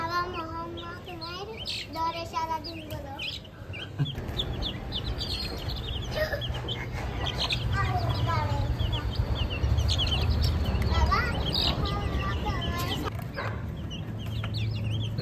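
Desi and Aseel chicks cluck and chirp steadily throughout in the sun, with occasional higher peeps, moderately close, over a continuous low outdoor hum.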